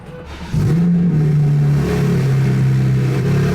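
A BMW G87 M2 with a manual gearbox starts up, the engine catching sharply and settling into a loud, steady warm-up idle that holds a raised pitch, heard close up.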